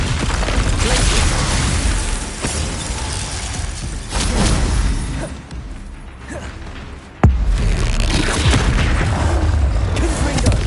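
Spell explosions from Confringo and Bombarda in the video game Hogwarts Legacy: repeated heavy booms and crackling blasts over a dense battle din, with a sharp loud burst near the end.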